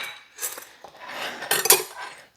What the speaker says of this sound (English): All right, so let's cut us a piece of pie.